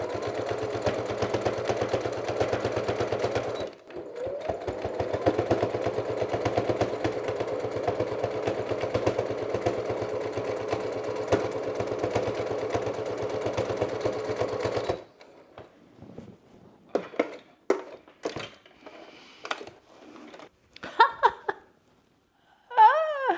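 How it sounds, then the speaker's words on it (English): A sewing machine stitches fabric in a fast, steady mechanical rhythm for about fifteen seconds, then stops; short scattered bursts and brief voices follow. "I'm just going to line my fabric up to the end of the presser foot."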